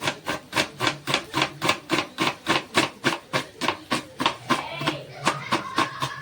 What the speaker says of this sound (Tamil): வெங்காயம் போதும். தாளிப்புக்கு பொடியாக கட் பண்ணிடணும்.